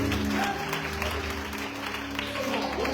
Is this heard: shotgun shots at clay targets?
no